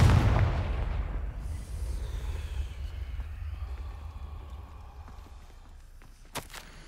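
A Confringo explosive spell in Hogwarts Legacy bursts as a single loud blast at the start, its rumble fading slowly into quiet ambience, with a faint sharp click near the end.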